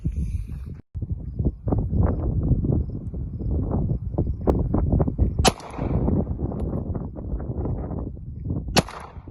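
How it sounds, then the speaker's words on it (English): Two sharp, loud gunshots from a Glock 34 pistol with a 9mm barrel, fired at a milk jug 25 yards away, land about three and a half seconds apart over outdoor background noise. "I'll go ahead and shoot this milk jug at 25 yards"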